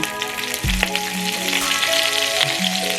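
Broccoli tipped into hot peanut oil in a pan, with a sudden thump as it lands, then a close, continuous crackling sizzle.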